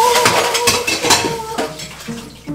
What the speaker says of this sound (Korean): 엄마, 내가 할게, 설거지